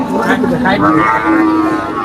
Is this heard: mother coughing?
no